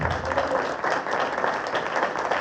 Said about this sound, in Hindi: जोर से बजाओ तालियां बजाना।